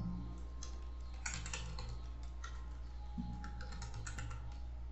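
Typing on a computer keyboard, steady bursts of key clicks with brief pauses, close and fairly quiet over a low background hum, no voices.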